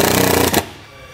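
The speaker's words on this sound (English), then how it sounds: "We can grab our self-tapper provided and just run it right here into" A self-tapping screw is driven into a metal brace inside an open channel on a trailer brake controller install, a loud close buzzing drill whir lasting about half a second before stopping abruptly.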